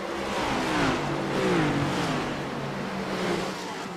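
Simulated race car engines from iRacing at the Gateway oval, several engines droning loudly together with rising and falling pitch as the cars run through the corners.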